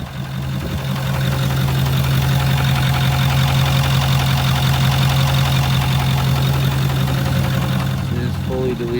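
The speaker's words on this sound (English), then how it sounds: "this is a video of the sound of the motor makes when you start it" Ford F450 diesel pickup, fully deleted with up pipes and a cold air intake, idling with a rod knock; a steady low engine drone runs close and loud throughout, with a faint rhythmic knock within the idle.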